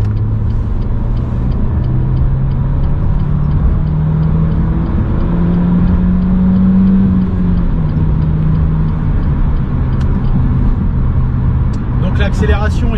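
A Renault Clio 3 GT 1.6 16V hatchback engine drones steadily and rises in pitch as it accelerates, a loud continuous rumble heard from inside the car.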